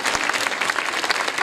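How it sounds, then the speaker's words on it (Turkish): Loud, close audience applause at a children's school performance, brisk continuous clapping filling the whole short moment without any speech. "bir alkış daha alabilir miyim?"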